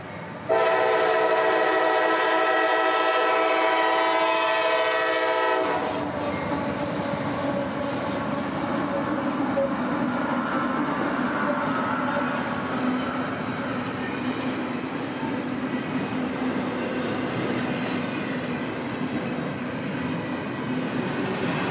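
Freight locomotives on the S-Line near Waycross open with a loud, sustained multi-tone horn blast for several seconds, then give way to a steady, heavy rumble and clatter of the train rolling past nearby.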